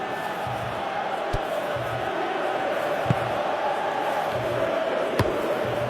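A stadium crowd roars in a soccer video game between Qatar and Switzerland, a broad sustained din with a few sharp thuds and a low repeating drone beneath.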